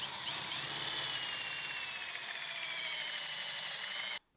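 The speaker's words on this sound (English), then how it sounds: "the Forstner bit actually is going to stick out past the end of the wood" A Forstner bit bores a hole through a piece of wood for a cell phone stand, giving a steady high-pitched whine and grinding that holds for about four seconds before stopping abruptly, with no voices.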